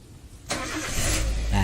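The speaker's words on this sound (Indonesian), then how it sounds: "Hidup pasti ini bisa saya starter." A car engine, started remotely by SMS, cranks and catches, then settles into a loud running rumble that builds toward the end. The engine is close by.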